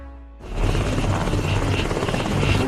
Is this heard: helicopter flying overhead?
yes